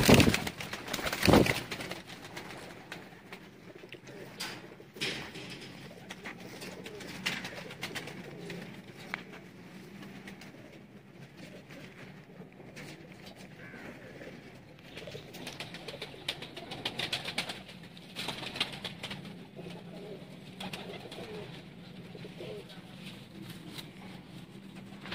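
Pigeons kept by fanciers in Sialkot coo in low, throaty rolling calls, continuous and fairly close, after a brief loud burst at the start, with intermittent soft rustling and movement.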